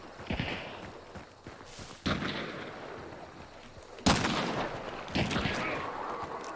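Gunfire in the video game Hunt: Showdown: several sharp, loud shots with sudden attacks, each trailing off into reverberant rumble. Softer shuffling and movement noises fill the gaps between them.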